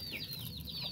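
Chickens clucking at close range in a short one-second burst, with repeated chirpy calls over a low background hum and no talking.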